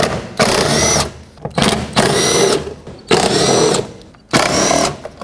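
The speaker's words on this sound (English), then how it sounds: "let's start unbolting the regulator from this panel. It's got some T30 Torx bolts all around" A power tool spins out T30 Torx bolts from a window regulator panel on a 2007-2010 Chrysler Sebring, four loud close bursts of whirring with short pauses between, no talking.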